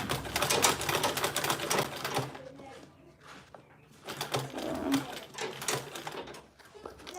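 A sewing machine stitches a tote bag in rapid mechanical bursts, stopping briefly midway before running again, with faint talk in the background.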